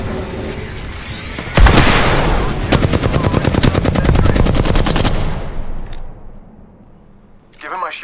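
Rapid automatic gunfire in the video game Apex Legends, with a loud impact followed by a sustained, evenly spaced burst of shots up close, then a short later flurry, and a voice speaking in the game.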